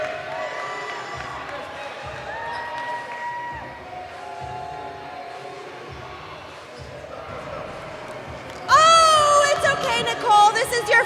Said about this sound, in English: Let's cheer her on, everyone.